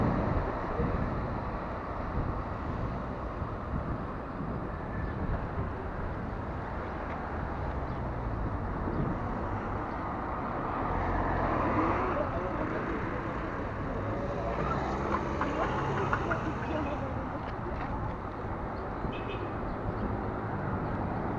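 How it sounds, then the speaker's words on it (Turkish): Steady road traffic passes while riding a BTWIN Triban 520 road bike, a continuous rushing roar of vehicles mixed with wind buffeting the microphone, loud and unbroken throughout. "çok fena da trafik var ya"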